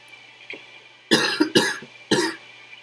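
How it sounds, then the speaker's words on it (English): A person coughs three times in quick succession, close and fairly loud, with short gaps between the bursts and only faint background between them. "There, I coughed again."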